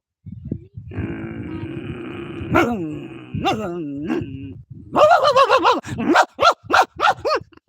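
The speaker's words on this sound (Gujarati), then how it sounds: "કૂતરાનો કૂતરાનો" A long, low dog growl rises into whines, followed by a burst of loud, sharp barks repeated in quick succession, close by.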